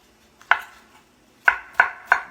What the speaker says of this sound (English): I'm going to cube that up